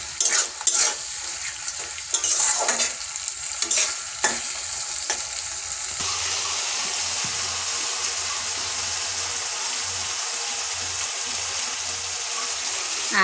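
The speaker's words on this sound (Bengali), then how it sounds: "এটা ভাজা ভাজা করে নেব আমি" Cumin paste, coriander paste, green and dried chillies frying in hot oil for a chicken dish, opening with stirring scrapes and clatter, then settling into a loud, steady sizzle that runs on alone.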